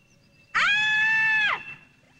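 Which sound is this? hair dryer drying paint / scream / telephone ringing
scream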